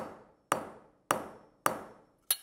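Four sharp hammer blows strike a metal corner guard on a wall, evenly spaced about half a second apart, each a crisp close-up clank with a brief ringing decay.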